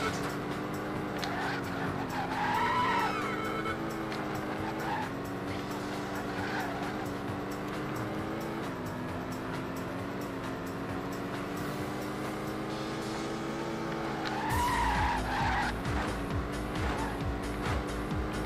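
Lotus sports car in the Xbox racing game Test Drive Overdrive, engine droning steadily throughout with brief tire squeals and skids, loudest around the start and again near the end, with no talking.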